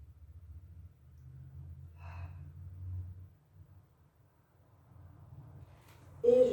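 Slow, soft breathing at rest during a Pilates session between swan dive exercises, with low steady airflow, one brief sigh-like exhale and a louder breath at the end, close and quiet, with no talking.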